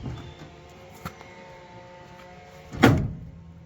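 A Mustang car door clunks shut with a solid thump near the end, preceded by faint handling noises and a quiet mechanical click.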